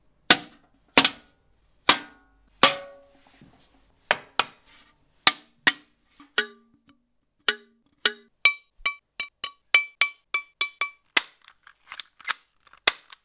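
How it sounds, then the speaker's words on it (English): Household items and an old BB toy gun are struck and fired as raw material for homemade shotgun effects: sharp isolated cracks and clicks, widely spaced at first, then quickening into a dense run of snappy metallic pops. "I took a whole bunch of household items and also an old BB toy gun to get a broader range of sounds"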